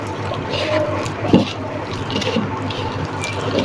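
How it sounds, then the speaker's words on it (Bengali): Water is poured into flour dough as it is kneaded by hand for luchi made with egg, milk powder and sugar. Close, soft trickling and squelching build to one brief louder splash midway. "তো আমি দেখো বারবার এভাবে পানি দিব আর মাখাবো"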